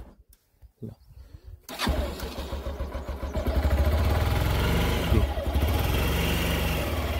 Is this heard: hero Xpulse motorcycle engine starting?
yes